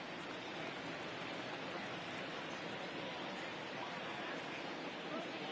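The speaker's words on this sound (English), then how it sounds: "Really starting to pour now, and the forecast is not showing any signs of a break in the weather." Heavy rain pouring on a ballpark in the MLB The Show 20 baseball video game: a dense, steady wash of hiss with no breaks.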